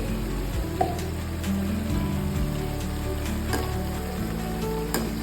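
Cumin seeds sizzling in a pan for stuffed bitter gourds, a steady close frying hiss with a few soft clicks and scrapes, no talking.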